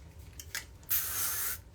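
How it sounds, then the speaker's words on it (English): Light hold hairspray sprayed onto hair while styling beach waves, a single steady hiss lasting under a second, close and fairly loud after a few faint handling rustles. "And then I'll finish with a light hold hairspray."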